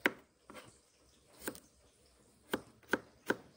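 A knife chops shallots and garlic on a board in six crisp, unevenly spaced thuds, close and fairly quiet, with no talking.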